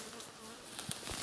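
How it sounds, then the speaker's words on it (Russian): A bee buzzes close by outdoors on a rural Altai village homestead among grass and brush, a steady droning hum that swells louder as it circles near, with no talking. "Что-то на меня нападает какая-то пчела"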